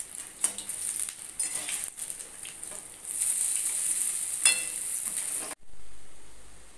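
Masoor dal fritters fry in a pan over a gas flame turned up to full as they are flipped, with a steady bright sizzle and scattered utensil clinks before the sizzling cuts off sharply near the end.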